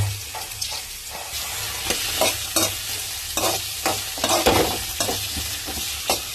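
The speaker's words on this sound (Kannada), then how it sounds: "ಎಲ್ಲ ಈರುಳ್ಳಿನ ಚೆನ್ನಾಗಿ ರೋಸ್ಟ್ ಮಾಡ್ಕೊತಾ ಇದ್ದೀನಿ." Onions roasting in a pan for an egg and drumstick-leaf dish, with steady sizzle and repeated scraping stirs of a spatula at close range, no talk.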